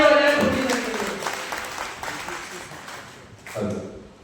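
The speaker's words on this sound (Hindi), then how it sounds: "एक बार जोरदार तालियां बजाएं।" An audience at a seminar breaking into applause, a burst of clapping that swells near the start and fades, with a voice talking over it and a second short burst near the end.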